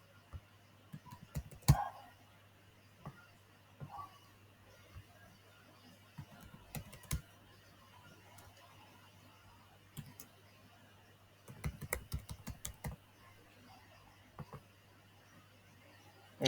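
Computer keyboard keys click in short scattered bursts, quiet and close, with separate taps and small clusters of typing spread across a hushed room.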